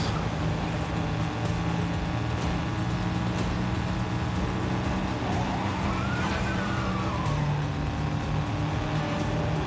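A car in a James Bond video game drives hard and skids, a continuous engine drone overlaid with a long tire squeal midway, surrounded by game effects and no talking.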